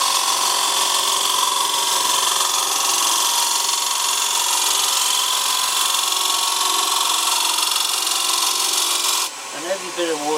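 A wood lathe spins a dry, rough-turned bowl blank while a sharp skew chisel shears across it, a steady loud hissing cut that holds for about nine seconds before stopping abruptly, followed by someone speaking.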